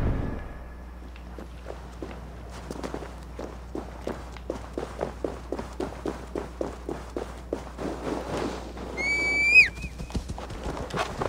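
A horse in the Viking-era action game Assassin's Creed Valhalla gallops in a steady run of close hoofbeats, ending with a loud rising neigh near the finish.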